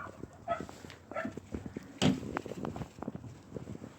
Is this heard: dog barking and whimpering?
yes